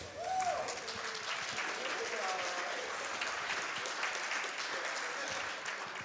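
A speedrun charity marathon audience claps steadily for several seconds, a dense patter of applause at moderate distance that stays even throughout.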